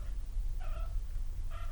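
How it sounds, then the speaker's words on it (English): A pet cat purrs close by in a low continuous rumble, broken by two short meows, one in the middle and one at the end. "oh, sweetheart, and there's my kitty. Yes, there's my kitty."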